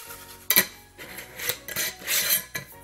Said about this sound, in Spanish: Voy a meter aquí todos los papelitos.